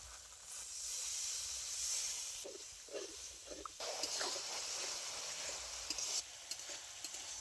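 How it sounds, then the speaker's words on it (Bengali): Spice paste with turmeric and chili powder frying in a pan for a fish curry, a steady close sizzle and hiss running throughout with occasional stirring scrapes. "আরো অল্প মশলা বাটা জল দিয়ে বেশ কিছুক্ষণ কষিয়ে নেব।"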